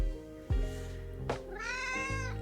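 A pet cat named Katie meows several times up close, the drawn-out cries rising and falling in pitch, with short gaps between calls and no talk over them.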